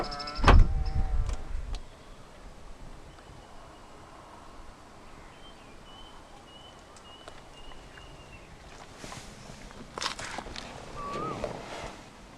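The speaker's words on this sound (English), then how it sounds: "the side mirrors automatically folds out again" A 2015 Mitsubishi ASX 2.0 4WD's side mirrors fold out automatically with a soft electric motor whir, preceded by a brief door-handle click and thump, heard close in a quiet setting.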